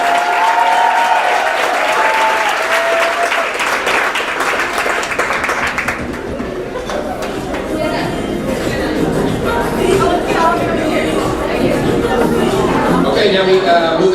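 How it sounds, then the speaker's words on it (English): Sustained applause fills a banquet hall for an athletic dedication award, loud and continuous, with crowd chatter and shuffling rising beneath the clapping as it carries on. "another big round of applause for the Archer Dedication Award"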